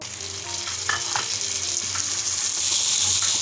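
Chicken liver and heart with browned onions frying in a pan, a steady loud sizzle with occasional stirring clinks, close and continuous with no talk.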